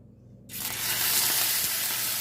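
A loud, steady sizzle bursts in as steak hits a hot, oiled cast iron pan and keeps crackling and hissing without pause.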